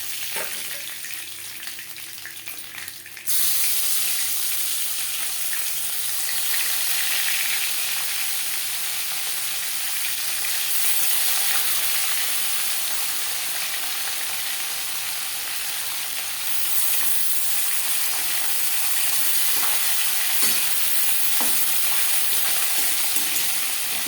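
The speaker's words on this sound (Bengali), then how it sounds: "আমি একটু কড়া করেই মাছ ভেজে নিচ্ছি।" Bhetki fish, a Bhola bhetki, shallow-frying crisp in hot oil in a pan, a steady loud sizzle that jumps up sharply after a quieter opening and crackles on unbroken with no talking.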